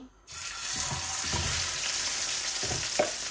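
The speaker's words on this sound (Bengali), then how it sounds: "আমি এখন মাছটা ভাজা করতে দিব নুন হলুদ মেখে" A tilapia fish fillet rubbed with salt and turmeric drops into hot oil in a frying pan, bursting into a loud, steady close sizzle after a brief quiet start, with no talking.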